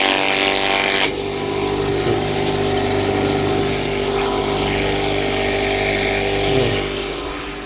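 A cheap grass chopper machine drones steadily up close as it shreds grass, with a brief louder burst at the start and a constant motor hum throughout.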